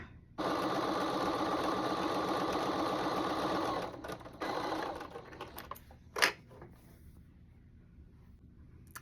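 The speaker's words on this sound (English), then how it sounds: "So now I am gonna just do a little stitching" A sewing machine stitches a cotton sweater in a steady whirring run for several seconds, then stops, followed by a short second burst and a sharp click, fairly quiet overall.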